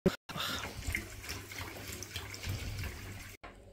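Water running from a kitchen sink tap, a steady close hiss and splash that starts after a brief cut and cuts off near the end, with no voices.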